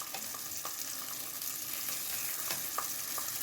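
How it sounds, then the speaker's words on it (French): Porcini mushrooms fry in oil as an even, fairly soft sizzle with scattered light stirring clicks and taps, and no talking. "Les faire cuire dans l'huile."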